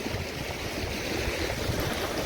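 Steady broadband rush of cascading water from many waterfalls pouring down off Neelkanth peak near Sahastradhara on a Himalayan alpine trek to Satopanth Lake, a continuous even roar with no voices.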